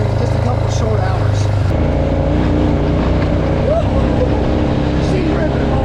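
Four-wheeler ATV engine running hard after a repair, a loud continuous motor roar close by with varying pitch, steady throughout with no talk.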